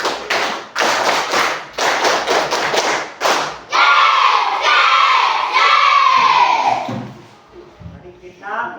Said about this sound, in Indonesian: Mari kita tepuk semangat terus.